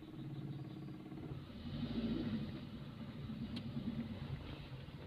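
A car's engine during a driving lesson, running steady and close at a low mid hum, swelling briefly around the second second as the gas is pressed, then settling back to a constant drone.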